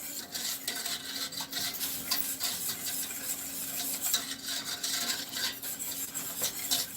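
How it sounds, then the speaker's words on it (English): A spoon stirs Jell-O into the filling mixture for a homemade strawberry pie, producing a steady, close scraping and swishing rub that runs unbroken throughout with no talking. "Now I'm going to stir in my Jell-O."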